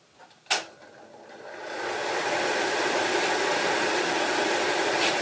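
Powder coat booth exhaust fan blowing air through its rear duct, starting with a sharp click and then spinning up into a loud, steady broadband rush that holds constant.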